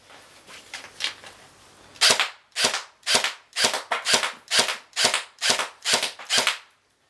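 A King Arm M4 airsoft gun fed by an AT MAG magazine fires ten sharp, evenly spaced shots, close and loud after a brief quiet stretch.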